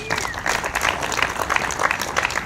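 Applause for student government representatives at an outdoor downtown trolley ribbon-cutting ceremony, a steady patter of clapping from a crowd with a voice heard over it, lasting the whole stretch at moderate loudness.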